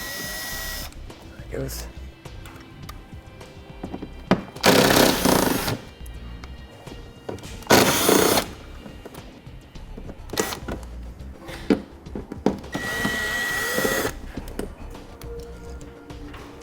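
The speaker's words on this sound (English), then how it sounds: "So we'll use a T20 Torx bit to remove them." A power driver fitted with a T20 Torx bit backs out screws on a Roadmaster crossbar-style base plate kit on a 2014 vehicle, with three loud bursts of whirring spread between stretches of talk.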